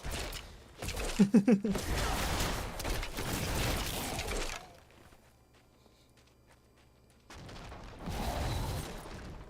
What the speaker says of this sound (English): Ah, the glories of corpse explosion.